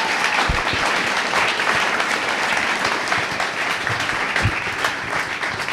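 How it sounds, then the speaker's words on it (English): Sustained applause from a live podcast audience at a basketball season-finale recording, dense steady clapping with a few louder claps, no speech over it. "here's a round of applause"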